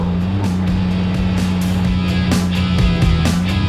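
A Formula Drift car drifts through the final outside zone at a competition round in New Jersey, its engine droning steadily at close range with repeated surges and tire-roar bursts.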